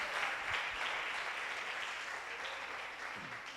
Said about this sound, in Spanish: ¿Y cuántos le dan un aplauso fuerte al Señor?